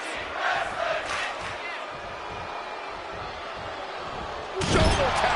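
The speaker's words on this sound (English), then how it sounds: "The sound of this crowd is deafening, and he's asking for more." A big wrestling arena crowd in WWE 2K23 roars without letup, with a sharp thud or slam near the end and no clear voices on top.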